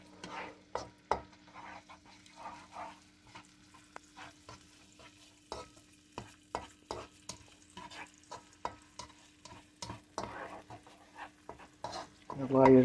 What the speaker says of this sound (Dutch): Dat laat je zo een half minuutje tot een minuutje even bakken.